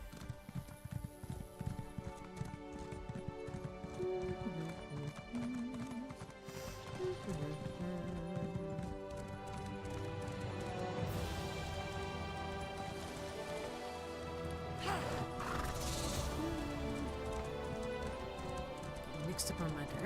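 A horse clip-clops along in the video game Elder Scrolls Online, a steady rhythmic hoof beat under game music and ambient effects, with a voice talking at times.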